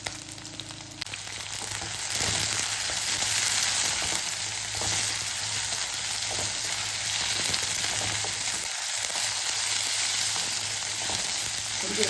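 Chopped drumsticks and brinjal sauté in a hot pan, giving a steady, even sizzle and crackle that runs unbroken for about twelve seconds, with no voices.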